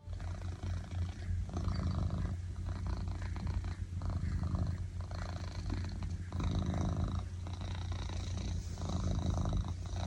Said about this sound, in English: Here's a few quiet moments of nothing but purrs for you to enjoy.